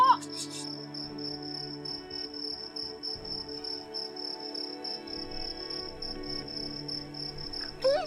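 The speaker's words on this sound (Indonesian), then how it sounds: "Tuh kan, suara jangkrik berisik amat." Crickets chirp continuously in a steady, high-pitched pulsing drone, fairly close, with faint background noise and brief sounds at the start and end.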